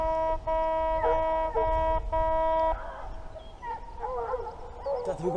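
Hunting dog barking and yelping during a driven hunt, likely for wild boar, with a strained, whining tonal bark repeating in bursts, then rougher yelps and yips amid outdoor noise.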